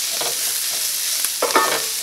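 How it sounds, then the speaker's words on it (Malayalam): Ground turmeric powder sizzles in hot oil for a potato curry, a steady close frying hiss with a couple of brief scraping stirs of a spoon in the pan. "മഞ്ഞൾപ്പൊടി അത് കിടന്നിട്ട് നന്നായിട്ട് മുരിഞ്ഞിട്ടുണ്ട്"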